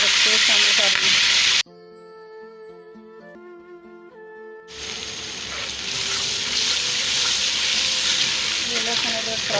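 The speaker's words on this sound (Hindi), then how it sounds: "ये लहसुन अदरक फ्राई हो गया।" Garlic ginger paste fries in a pan for beef korma biryani, giving a loud, close, continuous sizzle. A short stretch of tonal chime-like music briefly replaces it before the hissing sizzle returns and grows stronger.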